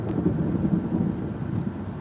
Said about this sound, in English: It's super lightning out here.